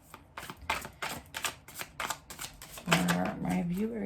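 Tarot cards riffle and slap in a quick run of shuffling bursts, close and crisp, then a card is drawn as a voice begins talking over the end.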